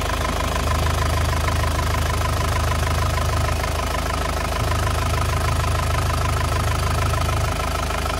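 A warmed-up engine on a first-owner 2014 GrandTouring car idles close by, a loud, steady, even hum with a fine rhythmic tick, running alone without voices.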